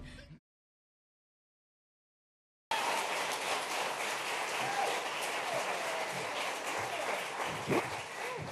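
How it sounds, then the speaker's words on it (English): A studio audience at an interview event breaks into steady, dense applause after a brief pause, the clapping sustained and fairly close, with a short bit of sound before the silence. "That was such a nice round of clapping."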